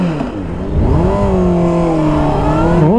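A car pulls away and accelerates close by, its engine note rising steadily and holding loud for a few seconds before shifting near the end.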